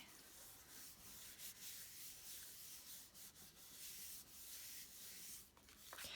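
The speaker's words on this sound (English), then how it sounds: "I'm going to turn it over and carefully rub on the back." The back of a decal rubbed onto acetate sheet for a mercury glass ornament, a close, steady dry scratchy rubbing that continues in short repeated strokes, quiet and without speech.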